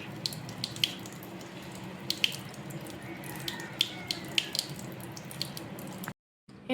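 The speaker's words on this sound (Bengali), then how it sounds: "10 মিনিট রাখার পর আমরা মুখটাকে ভালো করে ধুয়ে নেব।" Water runs steadily from a tap while a face is rinsed clean of a turmeric face pack, a continuous close splashing with small drips and handling noises, before stopping abruptly near the end.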